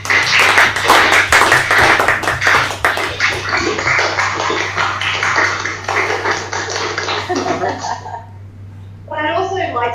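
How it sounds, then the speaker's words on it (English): Audience applause for a speaker at a nature-law campaign event, dense clapping that is loudest at the start and thins out toward the end, followed by a brief stretch of voices after a short pause. "I think a big round of applause"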